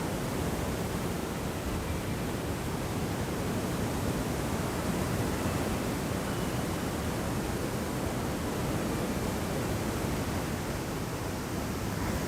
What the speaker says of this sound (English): We're right at the edge of Lake Ontario. So we have the beautiful sound of the water.